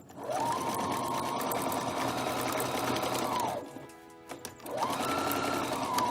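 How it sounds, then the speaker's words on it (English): A sewing machine runs at a steady hum for a few seconds, stitching ribbon straight across black and pink floral-print fabric for a duster garment, pauses briefly with small handling clicks, then starts up again, close and even. "I'm just going to sew it straight across onto the black and the pink"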